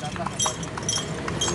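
Horse hooves clip-clop at a steady pace as the animal pulls a delman carriage around Kuningan, a few close, sharp knocks repeating under a constant road and street background with people talking.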